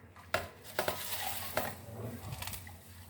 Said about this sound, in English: the more you add is the more you'll get the crackling sound.